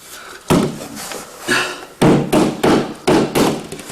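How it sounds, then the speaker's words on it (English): A hammer strikes repeatedly while a canvas is restretched, giving about six loud, sharp close-up blows in an uneven rhythm with short gaps between them. "Be really careful with this hammer."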